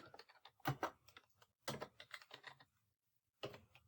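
Typing on a computer keyboard, quiet close key clicks in quick bursts with short pauses, alone without talk.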